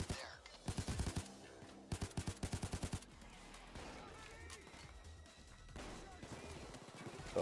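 Bursts of automatic gunfire in the PayDay 2 heist at the slaughterhouse: two tight volleys of rapid shots, loud and close, then a lower rumble of action with faint talk underneath.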